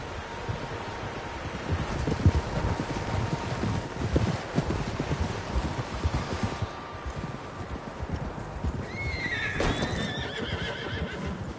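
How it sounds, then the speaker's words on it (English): Horses whinny and hooves clop over a steady outdoor wash of wind in the video game Red Dead Redemption 2, with one loud neigh rising near the end. "Horses, quite a few of them."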